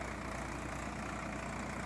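A tractor engine idles steadily nearby, giving off a continuous low, throbbing rumble with no talk over it.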